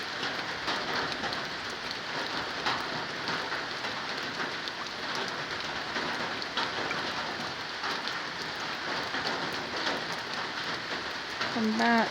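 Rain falls steadily on surfaces outdoors, a continuous dense patter of drops that stays even and moderately close throughout, with a slight swell at the end.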